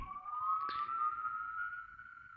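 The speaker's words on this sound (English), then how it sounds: "police sirens and the fire truck are kind of coming." A single siren wails faintly in the distance, a steady rising tone with a brief click partway through, no voices.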